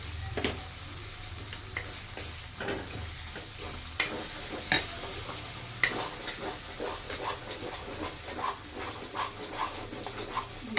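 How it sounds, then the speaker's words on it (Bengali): Chilli powder, salt and spices fry in a pan for chicken gravy, a soft continuous sizzle under repeated sharp scrapes and clinks of stirring. "এখন একটু ভাজবো ভালো করে, বেশি না অল্প একটু"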